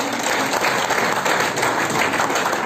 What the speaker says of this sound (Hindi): एक बार आप सबके लिए जोरदार तालियां